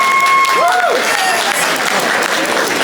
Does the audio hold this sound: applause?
yes